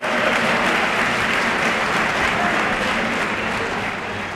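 Thunderous applause fills the chamber of the U.S. House of Representatives after a bailout vote, a dense, loud, continuous wash of clapping from many members that stays steady throughout.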